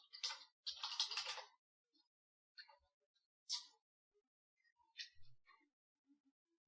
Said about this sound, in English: type my email address.